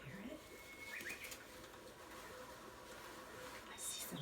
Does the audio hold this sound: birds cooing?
yes